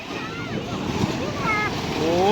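Rough sea waves rush far up the shore in a continuous, windy wash of surf that builds toward the end, with excited voices calling over it.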